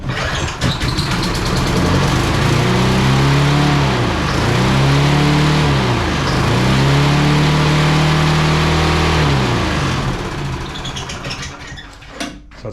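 A petrol lawn mower engine with carburetor problems running loud and close, holding a steady rough drone with a few dips and surges in speed before cutting out near the end.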